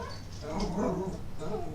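A puppy barks and whimpers up close in short yips and whines, with a person talking over it.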